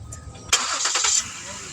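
A 2012 Ford Taurus engine cranks and catches with a sudden loud burst, then runs briefly before settling, close by in a garage during a brake job.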